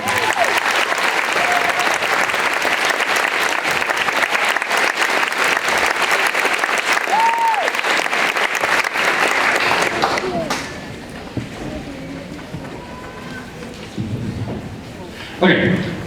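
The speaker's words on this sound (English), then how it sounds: "Let's give them another round of applause." A school spring vocal concert audience breaks into loud, sustained applause after a choral piece, which fades after about ten seconds to scattered claps and murmuring voices.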